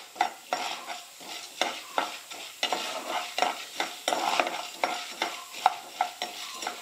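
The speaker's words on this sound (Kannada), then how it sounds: "ಈಗ ಒಂದು ಸ್ವಲ್ಪ ಹುರಿದಾವ ರೀ ಕಡಲೆಬೇಳೆ ಉದ್ದಿನ ಬೇಳೆ ಎಣ್ಣೆಲಿ ಫ್ರೈ ಆಗ್ಯಾವು." Chana dal and urad dal frying in hot oil, a steady sizzle broken by repeated scraping stirs of a spoon against the pan, close and fairly loud, with no voices.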